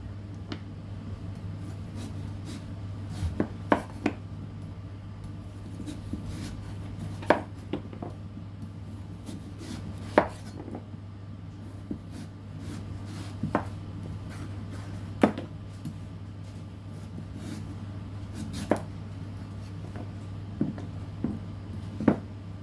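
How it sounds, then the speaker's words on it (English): Knife slicing a peeled pumpkin into discs on a cutting board, a series of sharp, separate chops spaced irregularly over a low steady hum, close and fairly quiet. "Now that all the skin is off your pumpkin, you're going to begin cutting it into discs like this"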